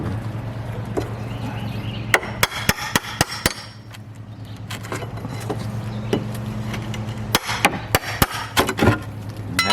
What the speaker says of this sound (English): All you really need is a hammer and a pry bar. You just get underneath, tap it, pop it up.